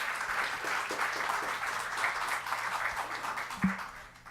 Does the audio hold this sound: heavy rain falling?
no